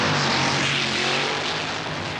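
A 1980 Tor Line Pro Comp fuel drag racer performs a burnout on a watered strip at Santa Pod, a loud, continuous, roaring engine blast with tyre screech that fills the whole moment without a break.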